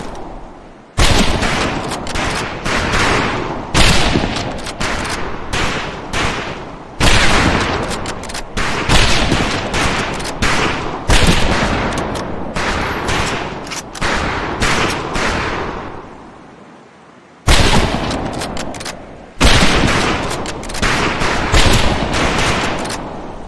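A line of rifles fires on command at an outdoor shooting range, loud sharp cracks in rapid irregular volleys, shots overlapping in bursts with brief pauses and one longer gap, each blast trailing a short echo.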